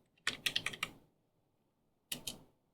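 Short bursts of clicky keystrokes on a computer keyboard, a quick cluster of about five presses, a pause, then two more taps, close and fairly quiet.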